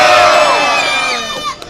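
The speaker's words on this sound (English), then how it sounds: "make double the noise if you want to see Catalina not just walk on that broken glass" A sideshow crowd at a Fright Fest event at Six Flags Great Adventure cheers and shouts loudly in a dense roar of many voices with whoops, gradually tapering off near the end.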